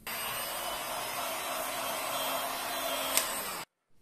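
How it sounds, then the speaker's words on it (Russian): A hair dryer drying freshly brushed lacquer on a leather car seat, a steady loud whirring blow that runs for several seconds, then cuts off abruptly. "И также сушим феном."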